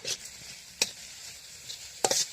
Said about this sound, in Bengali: দেখতে পাচ্ছেন যে আমাদের পেঁয়াজ আর মরিচটা ভাজা শুরু হয়ে গেল।